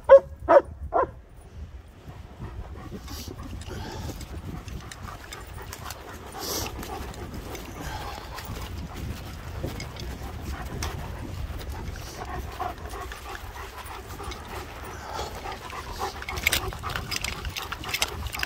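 Two German shepherd dogs pant, whimper and bark intermittently close by, with a few sharp barks early and muddy shuffling and breathing throughout, alongside occasional human voices.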